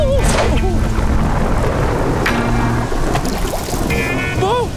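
Loud, heavy cartoon rain with rumbling thunder, voices and warbling whoops rising over the downpour.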